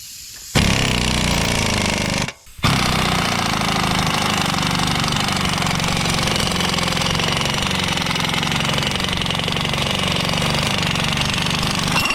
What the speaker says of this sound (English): tighten it with my little mini air impact